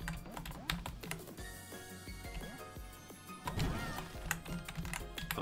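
Computer keyboard typing during play of the game Bird on Bird, rapid irregular clicky keystrokes, fairly close and loud, with a brief busier burst midway and no talk.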